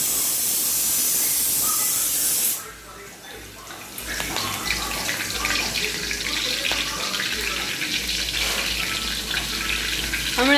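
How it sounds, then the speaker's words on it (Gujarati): Puffed rice (mamra) being tempered in a hot pan for a home-cooked snack gives a loud, steady hissing sizzle, briefly quieter around the third second, with faint rustling as the grains are added. "હવે મમરા નાખવાનું સ્ટાર્ટ કરી દીધું"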